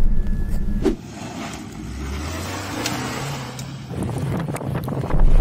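A small Suzuki Jimny engine buzzes and revs as it drives off-road, mixed with wind rumble against the microphone and rough bumps.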